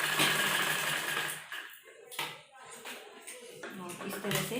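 A sewing machine stitching lace onto a blouse whirs steadily for a moment, then gives way to someone talking, with soft handling noises.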